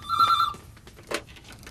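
Old-style telephone bell in a pub, a single loud close electronic trill that stops after about half a second, followed by a short clatter as the receiver is handled.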